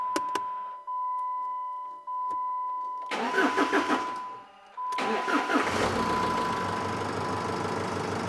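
A diesel car that has sat unstarted for a week cranks on a jump starter: a tone-beeping quiet start, then a burst of cranking, a pause, and the engine catching and settling into a loud, steady idle.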